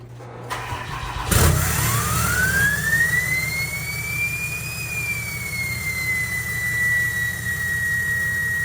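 A 6.7 diesel truck engine with a newly installed billet turbo actuator starts and runs, a heavy low rumble joined by a turbo whine that rises, peaks and settles to a steady whistle.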